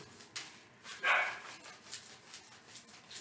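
A dog barks once, faintly and at a distance, in an otherwise quiet room, with a few soft knocks around it.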